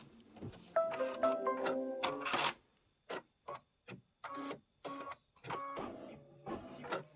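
An embroidery machine stitches a layer of a Kimberbell Cup of Cheer house design, running in loud, rhythmic mechanical bursts that stop and restart several times, heard close with no talking.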